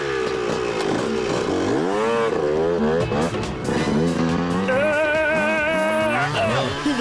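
A cartoon scooter engine runs throughout a race, a steady whirring drone whose pitch slides and wavers as it speeds along, with music-like tones layered over it.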